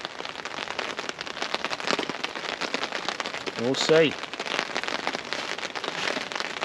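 Steady rain patters through woodland at an overnight bushcraft camp, a dense continuous hiss of drops on leaves and ground, with a brief louder burst midway and someone speaking briefly over it.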